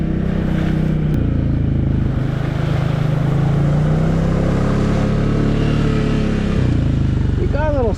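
A 2024 Can-Am Outlander Pro HD7 ATV engine idles close by with a steady low rumble, then revs up in a brief throttle flick near the end, with someone talking over it.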